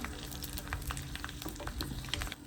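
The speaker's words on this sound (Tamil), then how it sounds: "எண்ணெய் மெல்லிய நெருப்பில் பொரியுங்க." Chicken frying in oil on a low flame sizzles with steady crackle and scattered pops, close and moderately loud, no voices present.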